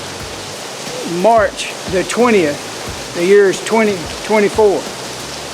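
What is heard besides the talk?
rain falling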